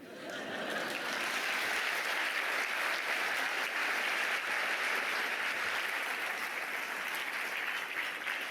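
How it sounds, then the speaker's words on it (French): An audience at an improv theatre show applauds steadily, a dense, sustained wash of clapping hands that holds at an even level for several seconds, moderately distant, with no speech over it. "Mais pour vous, ce serait mieux d'applaudir avant."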